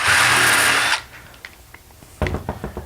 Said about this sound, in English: Take your pilot hole drill bit.